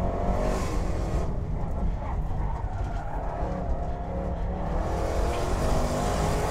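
A Land Rover Bowler EXR S races flat out down a circuit straight, its engine a loud continuous roar that swells and holds as the car speeds past.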